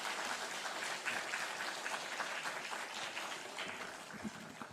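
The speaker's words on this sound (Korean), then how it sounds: "네, 박수하겠습니다." A church audience at a small-group seminar claps steadily to welcome a pastor to the stage, a fairly quiet, even patter of many hands with no voices.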